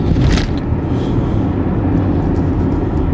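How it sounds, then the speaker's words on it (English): A raspy, rumbling engine exhaust from a Porsche Macan T with a 2.0 turbo engine drones steadily and close, with a brief louder rev near the start. "the exhaust note does change as well. You can hear it's quite raspy"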